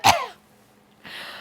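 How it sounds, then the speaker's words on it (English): A single sharp cough, made while wearing a mask and aimed at a lab plate, bursts out close at the start, followed by a short pause and then a soft breathy exhale. "go ahead and cough on the plate"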